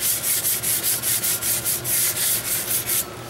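A wooden hand rail is sanded by hand in quick, even back-and-forth strokes, about a dozen rhythmic scratchy rubs close to the microphone, then a brief quiet at the end.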